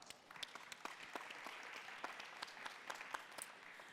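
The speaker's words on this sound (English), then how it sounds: "round of applause for Michael." Applause from a startup event audience for a presenter named Michael, a steady patter of many hands clapping, fairly faint and distant throughout, with no talking over it.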